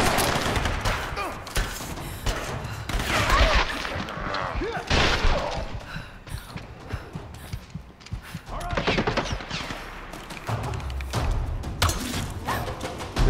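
Bursts of gunfire from the Tomb Raider action adventure game, sharp shots and rapid volleys repeating across the stretch, loud and close, with a man reacting over some of them.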